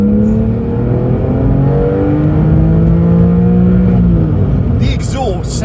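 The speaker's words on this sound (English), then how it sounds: "The exhaust sounds absolutely lovely." A Porsche 911 996 4S with a sports exhaust revs and growls loudly nearby, its pitch rising and falling through the gears, with a voice briefly heard near the end.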